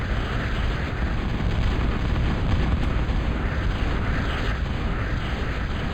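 Bombing in the real-time strategy game Total Annihilation produces a continuous, loud wash of rumbling explosions, dense and unbroken throughout, with no distinct pauses between blasts.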